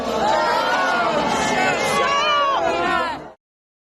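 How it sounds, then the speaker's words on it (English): A crowd in Lancashire boos and heckles King Charles, a loud sustained wall of shouting and jeering voices up close, fading out abruptly at the end. "So the King was really booed there, or it was heckled there by people"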